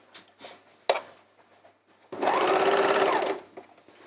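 An overlocker stitches around a hole to join two pieces of fabric, a loud, steady mechanical whir running continuously for just over a second after a sharp click and some quiet handling noises.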